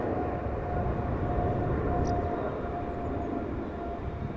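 An airliner bound for Houston climbs away after takeoff from Amsterdam Schiphol, a broad, steady jet roar with a faint tonal whine, moderately loud and slowly fading, with no voices.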